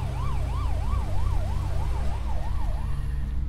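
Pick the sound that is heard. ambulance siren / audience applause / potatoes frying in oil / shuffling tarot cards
ambulance siren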